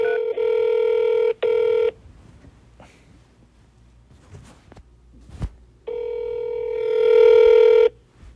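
Steady electronic tones from a health center's telephone answering system, two sustained tone bursts near the start, a quiet gap with faint clicks and rustles, then a longer tone that swells louder before cutting off; no speech.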